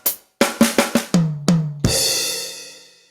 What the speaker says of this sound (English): here comes the fill